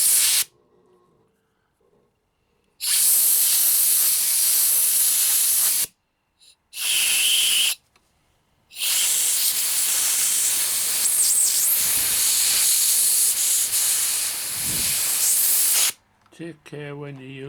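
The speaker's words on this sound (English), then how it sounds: "Bit of blast of air just for good luck." Compressed air blasts out in long loud hissing bursts while cleaning the carburetors of a Yamaha YZF600R motorcycle, with one sustained spray, two short puffs, then another long steady blast, all close up.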